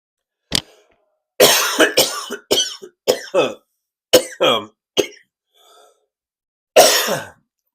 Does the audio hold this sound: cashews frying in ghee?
no